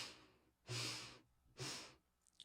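Slow guided breathing: two long, even breaths, each a soft airy rush of about half a second, separated by pauses, close and quiet with no talking.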